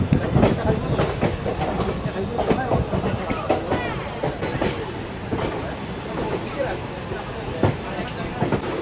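The 12363 Kolkata Haldibari Intercity Express runs out of Bardhaman Junction with a steady, loud rumble and rhythmic clickety-clack of wheels, heard from inside the train amid faint background voices.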